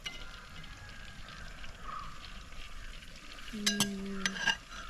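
Chicken pieces go into a pan of frying chilli chicken gravy curry, giving a low steady sizzle with a short burst of metal utensil clinks and stirring near the end. No one speaks.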